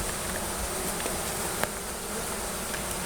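Honeybees hum in a dense, steady drone from a hive under a house, close and continuous, with a faint click or two.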